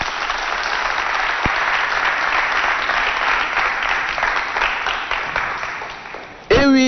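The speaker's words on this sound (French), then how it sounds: "Mon public, applaudissez pour mon directeur." An audience at a televised competition in Chad claps for the director, loud continuous applause filling the room, cut off abruptly near the end by a brief tonal sound.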